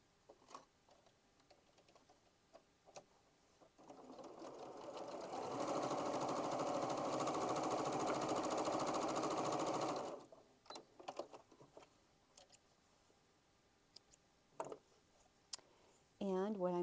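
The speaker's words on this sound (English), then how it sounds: "I'm going to sew a 1/4 of an inch, a scant 1/4 of an inch seam allowance across the top of that." Sewing machine stitching a scant quarter-inch seam across a quilt block, a steady whirring run of about six seconds between quieter clicks and fabric handling.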